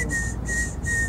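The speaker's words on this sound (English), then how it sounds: "I can't get over that whistling." A person whistles three short, clear, evenly spaced notes at a steady pitch, close and fairly loud over a low background rumble.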